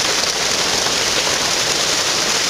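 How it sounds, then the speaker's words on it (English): Steady rain falling outdoors makes a dense, even hiss of drops on surfaces, loud and close, with no talk over it. "Of course, it has just started raining,"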